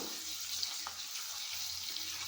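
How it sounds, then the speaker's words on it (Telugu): Onions and ginger garlic paste fry in oil with a soft, steady sizzle and hiss that runs quietly through the whole moment, with no voices. "అల్లం వెల్లుల్లి పేస్ట్ పచ్చి వాసన పోయే వరకు వేయించుకోవాలి."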